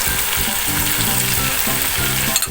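Bay leaves and black pepper sizzle steadily in hot oil while being sautéed for squid adobo, a loud continuous frying hiss with faint stirring, no voices.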